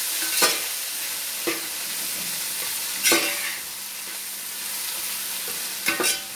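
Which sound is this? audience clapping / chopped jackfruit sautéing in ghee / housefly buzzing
chopped jackfruit sautéing in ghee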